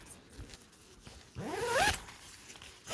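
A zipper on the door of an OEX Coyote 3 tent pulled shut while wild camping by Loch Laggan in Scotland: one quick rising zip of about half a second, close and crisp, after quiet outdoor ambience.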